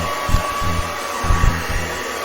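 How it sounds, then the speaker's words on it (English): A hair dryer with no diffuser attached roars steadily at close range, its loud whooshing airflow broken only by faint low thumps. "this blow dryer don't have a diffuser on it"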